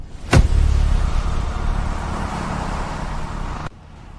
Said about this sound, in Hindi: एक्सीलेटर दबा पूरी ताकत से।